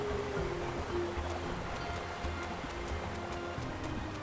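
Steady rushing water from a waterfall inside a cave in the IfSunSets video game, a constant broadband wash with faint ticking game sounds over it, heard alone without talk.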